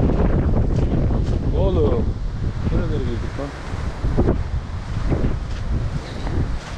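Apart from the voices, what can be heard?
wind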